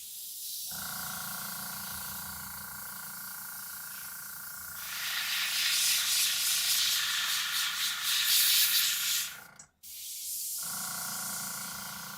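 An airbrush spraying paint gives off a steady, close hiss over a low compressor hum, swelling louder midway before cutting out briefly and resuming.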